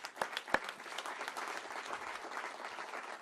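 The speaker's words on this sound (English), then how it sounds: "let's give him a round of applause for that tremendous accomplishment." Audience applause at the 2018 Climate & Clean Air Awards ceremony: a steady wash of many hands clapping, moderately faint and continuous, with a couple of sharper individual claps near the start.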